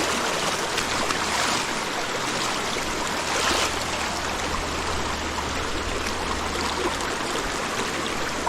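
Steady river water rushing and babbling over rocks in a forest, a continuous broadband wash close by with no voices.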